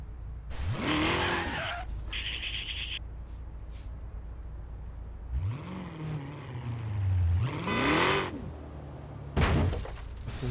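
A racing car engine in Forza revs loudly in repeated rising and falling sweeps, with tire skids and sharp crashes between the runs.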